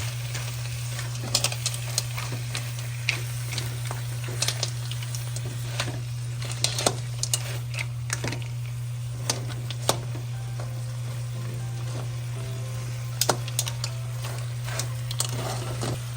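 Stirring crab in a cooking pot: scattered scrapes and clicks over a soft sizzle, with a steady low hum running underneath the whole time.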